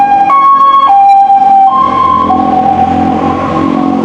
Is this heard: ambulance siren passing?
yes